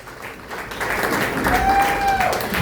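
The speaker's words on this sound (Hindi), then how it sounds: "जोरदार तालियां सर का स्वागत करेंगे।" A live session crowd applauds to welcome a guest of honour, broad clapping filling the space at a steady level, with a faint whistle-like tone and some voices underneath.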